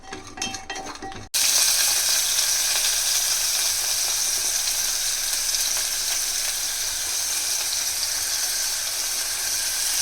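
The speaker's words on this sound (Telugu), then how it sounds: "ఇది కూడా లైట్గా వేయించుకుందాం." Chopped onion fries lightly in hot oil in a pan for a Nellore-style fish curry, with a loud, steady sizzle that begins abruptly after a brief quieter start and continues close up throughout.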